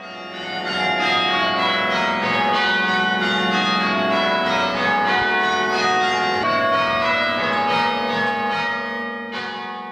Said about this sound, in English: That's the sound of the bells of St Thomas's Church here in Douglas,